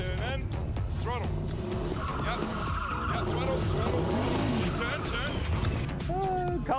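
A car drifting on a track with a novice actor at the wheel, engine revving hard near the limiter while tires squeal through the turn, loud and close, with people talking over it throughout.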